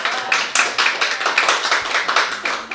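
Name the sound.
audience clapping at a live podcast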